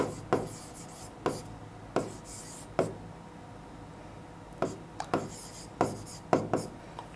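A pen scratching out a maths equation on paper, close and fairly clear, in short bursts of strokes separated by brief pauses over several seconds.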